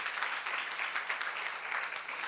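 Congregation at a Korean church seminar applauding, a continuous moderate patter of many hands clapping for a couple of seconds, slightly distant.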